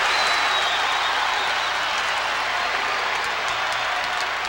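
A basketball arena crowd at a 1993 Indiana–Michigan college game roars and applauds loudly and continuously, a broad wash of cheering with a faint voice underneath.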